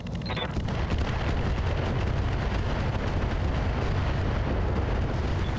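Mech weapons firing in the BattleTech game: a dense, sustained barrage of heavy booming blasts and rumbling explosions, loud and continuous without pause, no speech.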